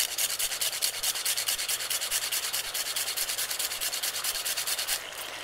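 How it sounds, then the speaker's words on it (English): A cinnamon stick is freshly grated in quick, even rasping strokes, close up and steady for about five seconds before stopping, with no talking. "when you freshly grate the cinnamon"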